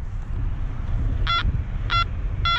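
A Makro Multi Kruzer metal detector gives three short, bright electronic tone bursts, spaced roughly evenly, over a low rumbling background of handling or wind noise.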